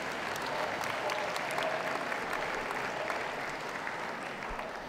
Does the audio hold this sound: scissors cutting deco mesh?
no